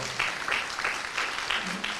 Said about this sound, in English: Let's give Tony Jenkins a big round of applause, y'all.